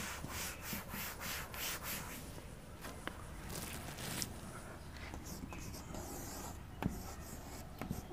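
Chalk or marker scratching across a board during a maths lesson, steady close rubbing and scraping strokes with an irregular writing rhythm, a soft voice faintly audible beneath.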